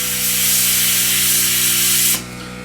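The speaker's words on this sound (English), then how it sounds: "All I'm doing is just spraying the center." Double-action airbrush spraying paint onto an Eduard Messerschmitt Bf 109K scale model kit: a close, steady airy hiss over a faint low hum that cuts off sharply near the end, leaving the quieter hum.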